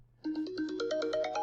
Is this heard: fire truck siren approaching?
no